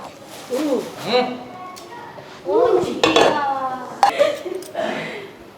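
A utensil clinks and scrapes against a pan as instant noodles are stirred, in several short bursts of clattering metal with quiet gaps between them, and a person talks over the stirring.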